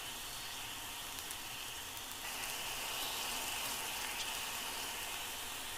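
Finely chopped onion and green chillies sizzling in a hot pan over medium heat, a steady, soft, even hiss with no voices.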